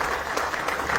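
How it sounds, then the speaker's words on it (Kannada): Loud applause from a crowd at a farmers' meeting in Mudhol, a dense steady clapping that fills the whole second with no pause. "ಜೋರಾಗಿ ಚಪ್ಪಾಳೆ"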